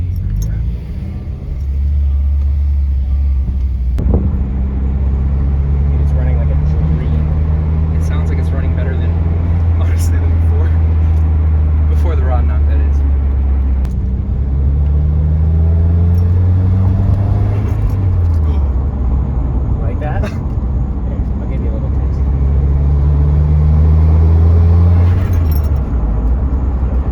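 A Subaru WRX with an FA20DIT engine and a new clutch runs on its own, its close, loud exhaust rumbling steadily and rising and falling through several revs; voices may be heard faintly over it.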